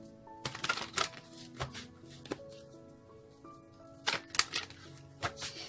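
Tarot cards are shuffled in several quick, crisp bursts separated by short pauses, close and fairly quiet, with a faint hum in the background.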